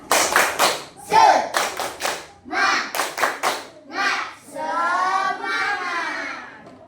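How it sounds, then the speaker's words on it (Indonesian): Children perform the tepuk semangat, a patterned rhythmic clapping routine in a classroom, with bursts of claps alternating with chanted group voices, close and lively, ending in a sustained sung or shouted phrase. "Kita exciting tepuk semangat ya. Tepuk semangat."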